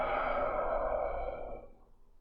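One long, deep exhale through the mouth during a qigong breathing practice, close and soft, airy and steady before trailing off into quiet.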